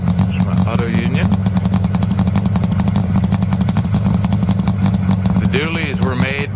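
Auto Union Silver Arrow replica on a DKW 1000S chassis, its small two-stroke DKW engine running with a rapid, rattling, buzzy idle and a few revs, close by, with people talking over it.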